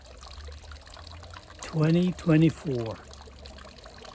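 Water trickles steadily from a drip irrigation bubbler in a garden, a faint continuous wash heard close up, while a person briefly speaks over it.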